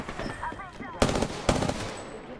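Two sharp, loud gunshot bursts crack about half a second apart during an Apex Legends firefight, preceded by a brief voice.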